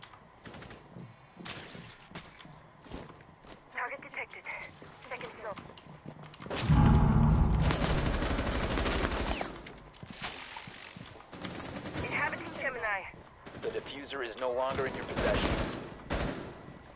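Rapid automatic gunfire with heavy recoil in the Rainbow Six tactical shooter, loud bursts dominating a stretch mid-clip, with scattered shots and game effects around it and a player talking throughout.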